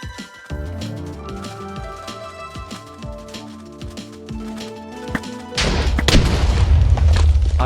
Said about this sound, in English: I think that's enough explosions for now.